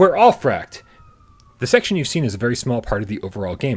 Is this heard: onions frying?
no